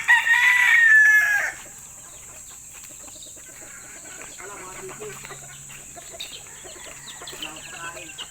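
A rooster crows loudly at the start, then a quieter farmyard follows with occasional clucks under a person speaking.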